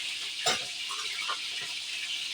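Chicken wings fry in hot oil with a steady close sizzle, broken by a couple of sharper crackling bursts as pieces shift in the pan.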